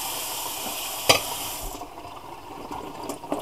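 Boiled potatoes for roast tatties are drained, with a steady rushing pour of water and a single clunk partway through, the flow tapering off into quieter dribbles near the end.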